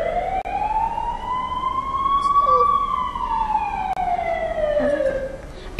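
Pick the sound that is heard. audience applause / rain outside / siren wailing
siren wailing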